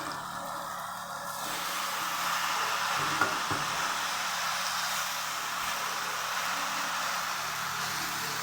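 Spinach frying in a pan with spices, giving a steady broadband sizzle that swells after being added and holds continuous, close and even throughout.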